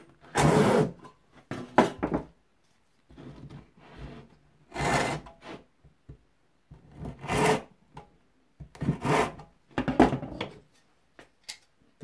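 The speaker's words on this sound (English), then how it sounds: "being Japanese saws, is that they cut on the pull stroke" A Japanese pull saw cuts through wood in about five separate bursts of rasping strokes, each close and moderately loud, with quiet pauses between them.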